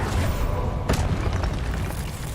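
A Confringo blast spell goes off in a wizarding video game as a deep, loud booming rumble, with a sharper burst near the start and sustained low thunder throughout.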